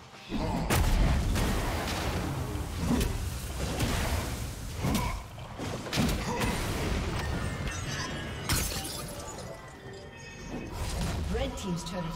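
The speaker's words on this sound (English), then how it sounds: "Red team's turret has been destroyed." Explosive crashes, whooshes and shattering impacts from a turret being destroyed in League of Legends during a Nasus versus Darius top-lane match, dense and continuous, with a game announcer voice over the action.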